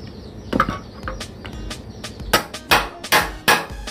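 Hammering on the steel plate of a trowel while fitting its handle: scattered metallic taps building to several loud, ringing strikes near the end, close by with no speech.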